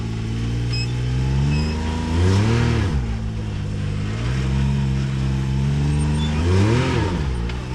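An off-road vehicle climbing rocks in Pritchett Canyon, Moab, revs its engine in two rising surges over a steady idle rumble, close and loud, with no talking.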